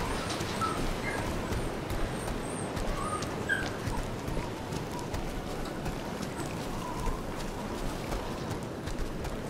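A dog in the video game Resident Evil Revelations 2 whimpers and yips faintly in short high cries over a steady rumbling game ambience.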